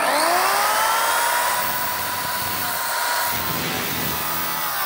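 A miter saw cuts a 45-degree trim piece for a kids' playhouse window, a loud close whining blade that spins down through the cut and keeps ringing steadily, with no voices.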